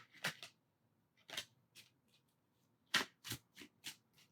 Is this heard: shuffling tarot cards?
yes